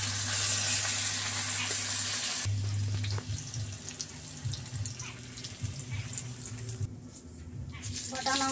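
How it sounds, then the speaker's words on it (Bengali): A fish head fries in hot oil in an Indian village kitchen with a continuous bright sizzle and crackle. Low background hum and some clatter run beneath it, and the frying fades and returns briefly near the end. "মাছের মুড়াটাকে ভেজে নিচ্ছি।"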